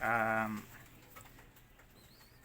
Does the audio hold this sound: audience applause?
no